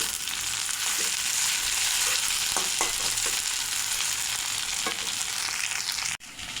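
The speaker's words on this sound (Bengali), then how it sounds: "এবার টমেটো কুচি দিয়ে দেব।" Chopped tomatoes hit hot oil with black cumin seeds and chopped onion for a tengra fish curry, giving a loud steady sizzle, with a few soft spatula stirs and scrapes, then a brief clatter near the end.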